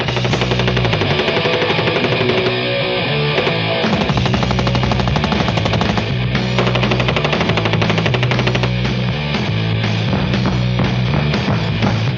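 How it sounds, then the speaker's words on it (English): An MPK machine gun with a six-inch barrel and folding wire stock fires long sustained automatic bursts from a 30-round magazine, a loud, dense, continuous stream of gunfire with no speech. "The barrel on the MPK is 6 inches long, and I'm shooting it with a 30-round magazine."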